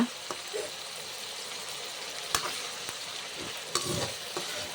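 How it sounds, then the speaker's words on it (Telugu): Tomato pieces fry in a pan for egg fried rice, a steady broadband sizzle with a few sharp stirring scrapes and clicks of a spatula, close and alone with no talk. "టమాటా ముక్కలు బాగా మెత్తగా ఫ్రై అవ్వాలన్నమాట"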